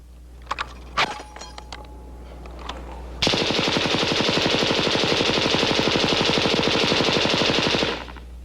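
A Heckler & Koch belt-fed machine gun at a 1970s firepower demonstration: a few sharp clicks and knocks, then one long, loud, unbroken burst of rapid automatic fire lasting about four and a half seconds before it stops abruptly.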